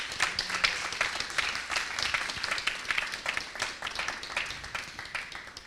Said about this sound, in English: let's give them all a round of applause for their commitment